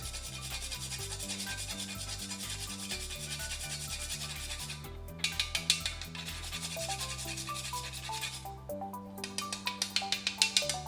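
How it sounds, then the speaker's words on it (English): Whole nutmeg is grated on a hand grater for a savory pie, producing a continuous rasping scrape with rhythmic strokes that grow more pronounced toward the end, close up with no talking. "got my grater here. Be careful, don't grate your fingers. I'm gonna grind in some nutmeg."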